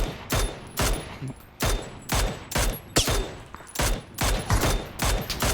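Rapid bursts of automatic gunfire from the battle royale game PUBG crack out in repeated short volleys, loud and close, roughly ten bursts spaced unevenly, near a prison location in the game.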